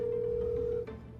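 A telephone rings on a call, a steady sustained electronic ring tone lasting most of the moment before cutting off, heard alone at moderate level.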